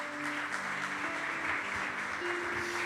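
A church congregation applauding together for the Lord, a sustained dense wash of clapping at steady loudness with faint background tones from instruments or a sound system.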